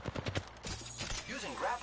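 Rapid gunfire in a shooting video game, a quick run of sharp shots at the start followed by game voice lines and other effects.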